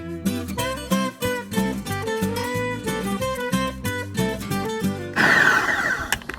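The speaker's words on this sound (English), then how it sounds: "We're gonna put it into the processor because it's almost full" A food processor grinds lentil batter with a loud, choppy whirring that pulses unevenly, ending in a harsher, steadier grinding roar.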